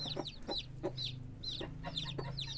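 Several farm chickens cluck repeatedly at close range in a steady, busy chorus of short, sharp calls, with a low hum underneath and no talking.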